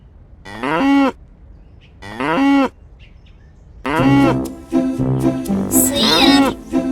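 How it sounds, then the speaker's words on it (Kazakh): A cow moos twice in long, clear, close calls, then a longer, denser passage of overlapping bovine lowing follows with faint chirps in the background. "Сиыр."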